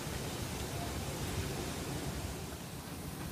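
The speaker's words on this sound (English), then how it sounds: "And it is super windy." Strong wind blowing outdoors in an apartment area with construction nearby, a steady broadband roar with constant buffeting that stays loud and close from start to finish, with no voices.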